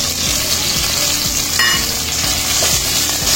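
Tomatoes sauté with onion and garlic in a pan, a loud, continuous sizzle with repeated soft stirring scrapes underneath and no talking.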